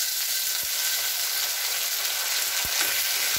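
Chopped tomatoes and onions frying in a pan for pumpkin and chickpea curry, a dense, continuous hiss of sizzling oil with a few faint knocks, close and steady throughout.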